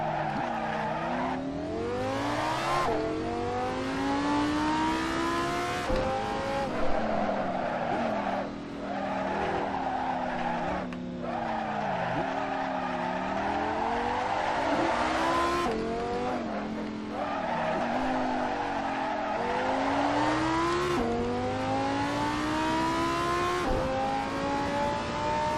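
A race car in Assetto Corsa, a Lamborghini or Lotus, revs up and down through repeated gear changes and downshifts, engine pitch climbing and dropping, with tire squeal and skidding, loud and continuous.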